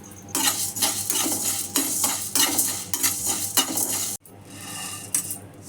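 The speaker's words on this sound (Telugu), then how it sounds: "నెక్స్ట్ ధనియాలను కూడా కొంచెం ఫ్రై చేయాలి." Coriander seeds dry-fried in a pan, stirred with a utensil in a steady rhythm of scraping strokes under a soft continuous sizzle, close and fairly loud, with a short break before quieter stirring resumes.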